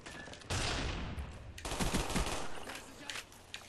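Rapid automatic gunfire bursts out loudly in a first-person shooter game, a dense rattling stream of shots with a brief break before a second sustained burst that tapers off near the end.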